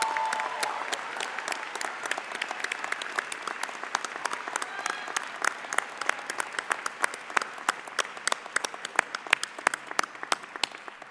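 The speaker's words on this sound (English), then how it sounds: "let's give these outstanding seniors one more round of applause" Sustained audience applause at an undergraduate midyear commencement for graduating seniors, a dense wash of many hands clapping with sharp individual claps standing out, steady and fairly loud throughout before thinning slightly toward the end.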